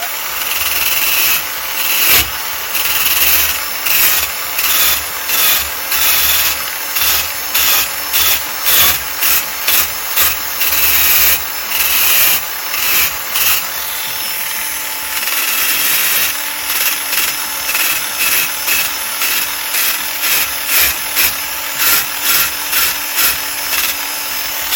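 Old screws clamped in a vise are scrubbed clean with repeated rhythmic scraping strokes over a steady background hum, loud and close, with no speech.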